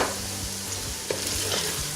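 Garlic and ginger paste frying with whole spices in a pot while cooking beef paya: a loud, dense sizzle fills the clip, with faint stirring scrapes, and no one talks.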